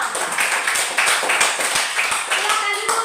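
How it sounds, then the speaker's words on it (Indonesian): Brisk applause from a classroom of pupils for a student, many hands clapping in quick uneven bursts for about three seconds, with voices audible over the clapping. "Tepuk tangan untuk Velo."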